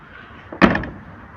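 A car door slams shut at an outdoor used-car market in Fergana: one sharp, close thud that fades quickly against a quiet background.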